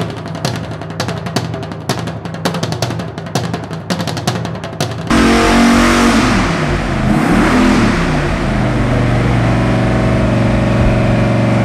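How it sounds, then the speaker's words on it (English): An all-aluminum 572 cubic inch twin turbo Chrysler Hemi engine roars and revs hard nearby, surging loudly after a stretch of rapid mechanical clatter, then settling into a steady heavy rumble. "This is our all aluminum 572 cubic inch twin turbo Chrysler Hemi."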